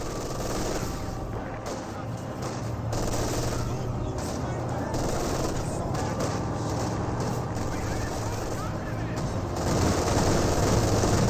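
Machine gun fire from an AA half-track in Company of Heroes 2 rattles continuously amid engine rumble and battle noise, with a commentator talking over it.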